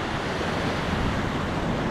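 A Scottish river flowing and dropping away over a fall, heard as a steady, dense roar of rushing water that fills the whole moment without a break, loud and close.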